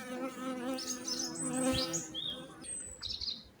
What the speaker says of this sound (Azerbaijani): bir saat bundan önce sublimasiya ettiğimiz güclü bir pətəkdir. Altı çərçivəli tam dolu arı.